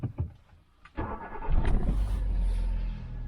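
A Hyundai i10 with about 90,000 on the clock cranks briefly and catches, then settles into a steady, close-miked idle that runs on without a break.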